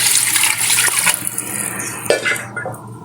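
1.5 litres of water pour into a pot of beef nihari, a steady rushing splash that changes tone as the pot fills and then tapers off.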